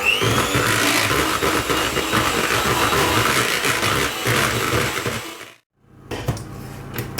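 Electric mixer whipping cream in a bowl, a steady loud whirring motor with rattling beaters that runs for several seconds, then cuts off abruptly before a few brief clatters.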